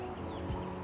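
Chickens in a garden coop give a soft brief cluck, faint and distant under a steady outdoor hum.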